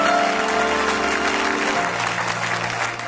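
A church congregation applauds and cheers during a French sermon, a steady, dense wash of clapping that fills the room for the whole stretch, with faint voices and a low musical hum underneath.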